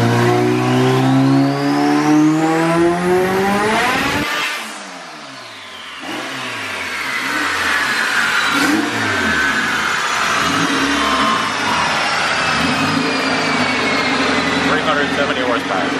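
A 350 hp Honda Civic sedan engine screams upward through a loud dyno pull, cuts off abruptly, then settles into a lower rumble with bursts of revving close by, with people talking faintly over it.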